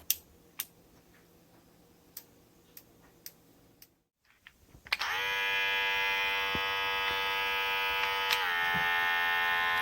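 After several sharp clicks and a short pause, a cordless hair clipper under $30 switches on and its motor runs with a steady, loud, high-pitched buzz that holds to the end.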